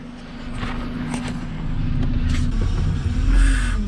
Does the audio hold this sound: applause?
no